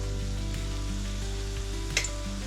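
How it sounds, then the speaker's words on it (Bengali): Fish roe fritters fry in a pan with a constant, moderate sizzle. A low steady hum sits underneath, and there is one small clatter near the end. "এখানে ভাজা হচ্ছে একটুখানি মাছের ডিমের বড়া।"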